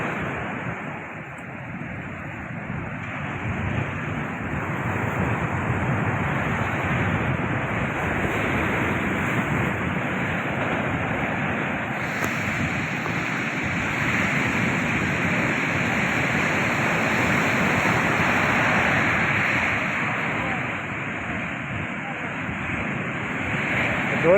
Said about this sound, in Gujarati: આ છે માધુપુરનો દરિયો ભાઈ.